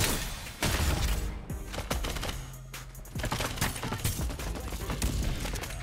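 Rapid gunfire in the video game Farlight 84, with dense bursts of sharp cracking shots packed closely together and loud throughout, broken only by a short lull midway.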